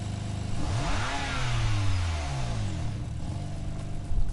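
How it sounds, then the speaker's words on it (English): A rattly car engine in the Gran Turismo Sport racing game revs up and shifts through rising and falling pitch sweeps, loud and steady, with no talking over it. "it's rattly engine noise, isn't it?"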